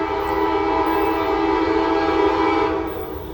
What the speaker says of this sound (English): is this train actually speeding? And it's a coal train.